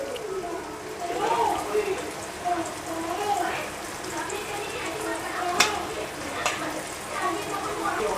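Chicken pieces frying in a pan for a home-cooked chicken curry, a steady sizzle with stirring scrapes and a few sharp crackles, fairly close, with voices talking over it.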